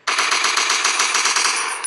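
Rapid automatic gunfire in a survival video game, a dense unbroken burst of loud, close shots rattling on steadily for nearly two seconds with no talk over it.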